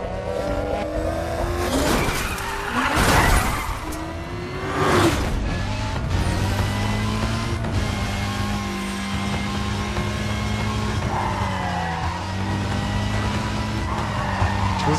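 A racing car engine in Need for Speed Carbon roars continuously, shifting pitch as it accelerates and slows, with bursts of tire squeal and skidding, all close and loud.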